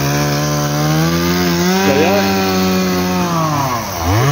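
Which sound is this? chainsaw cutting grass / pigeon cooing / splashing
chainsaw cutting grass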